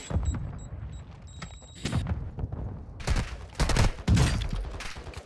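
Bursts of gunfire and heavy impacts from Call of Duty: Warzone 2.0 ring out in quick clusters, loud and close, with a beeping tone early on as a Semtex grenade is thrown.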